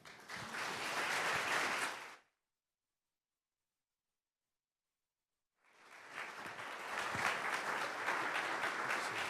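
An audience claps steadily in a hall, a dense round of applause that breaks off, leaves a stretch of silence, then resumes at full strength.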